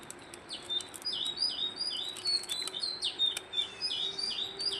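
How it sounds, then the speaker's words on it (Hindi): Birds chirp and tweet in a forest, a steady run of bright, repeated calls over a faint background hum, fairly close and continuous. "चिड़िया चहचहाती हुई"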